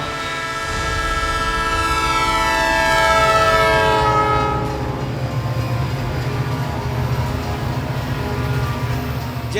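At the Raja Talab railway crossing near Varanasi, a passing train sounds a long, loud horn that fades into steady rumbling and rattling of the wheels and cars, continuous and close, with no voices.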